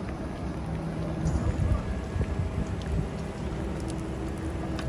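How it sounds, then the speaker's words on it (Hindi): Heavy rain pours at the Dhupguri railway platform as a steady, dense roar with a low rumbling undertone, continuous and loud throughout, with no clear breaks. "बारिश पूरा बारिश है"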